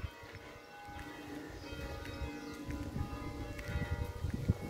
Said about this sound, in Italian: come potete sentire suonano le campane